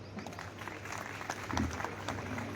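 Audience applause at a convocation ceremony of a girls' college plays as faint, dense clapping from a crowd, steady and slightly swelling toward the middle, with soft background voices.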